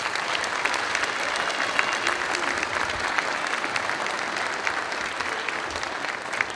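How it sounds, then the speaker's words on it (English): A concert audience at a school band festival claps in a steady, even round of applause, full and continuous throughout. "Round of applause for them."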